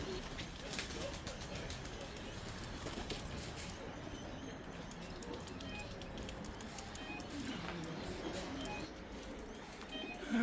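Racing pigeons returning to an Australian loft coo softly at a distance, with faint wing flaps amid quiet outdoor ambience and a voice speaking in the background.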